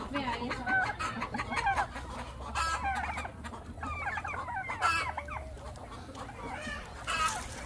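Chickens cluck repeatedly and busily close by, with a low rumbling background and occasional louder squawks.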